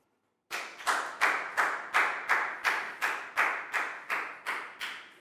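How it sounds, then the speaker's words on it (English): Rhythmic applause in a Year 4 English classroom for a student named Pak Bung: after a brief silence, about a dozen evenly spaced, sharp collective claps, close and loud, in a steady unison beat. "Big round of applause for Pak Bung"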